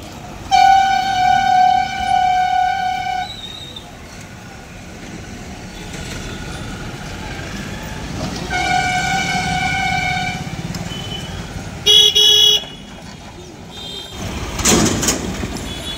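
A train passes close by near Plassey station, sounding loud repeated horn blasts over a constant rumble of rolling wagons, with a sharp short honk near the end and a burst of rushing noise as it goes by.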